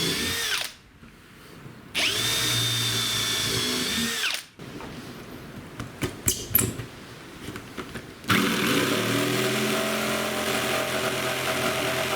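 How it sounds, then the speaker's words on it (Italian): A power drill bores a couple of holes during a van or camper fit-out, whining in close, loud bursts that rise and fall with brief pauses and rattling handling sounds between them. "Andiamo a fare un paio di fori"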